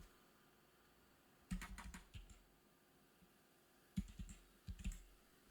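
Keystrokes on a computer keyboard in two short clusters after a quiet stretch, clicking close and crisp with gaps between bursts, no talking.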